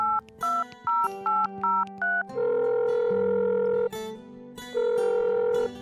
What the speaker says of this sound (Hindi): 1 घंटे बाद विक्रम ने अपने भाई प्रेम का नंबर डायल किया